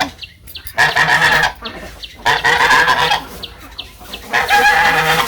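Loud, close waterfowl calls, repeated nasal honking quacks in bursts, several birds overlapping with barely a pause.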